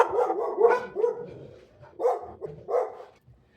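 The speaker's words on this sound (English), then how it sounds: "This is my friend's dog." A friend's pet dog barks several times in short bursts at close range, loud and clear with brief gaps between the barks and no talking over them.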